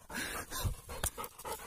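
A dog pants rapidly and rhythmically close by during a forest trail hike, quiet and steady, with faint scuffs and footsteps in the background.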